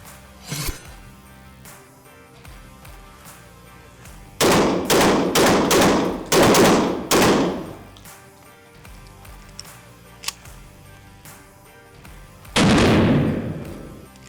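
A Mossberg 940 Pro SPX semi-automatic shotgun fires slugs and buckshot outdoors. There are a few scattered shots, then a rapid loud string of about six blasts, with more shots and a final heavy blast, and no talking.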